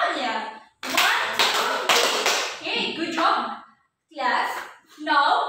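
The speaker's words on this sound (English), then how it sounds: "Let's give another 3 claps for Nathalia." A class of young pupils claps for a classmate in a few short bursts of hand claps, with children's and a teacher's voices speaking between them.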